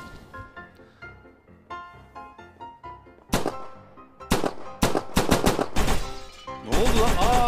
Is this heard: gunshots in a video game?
yes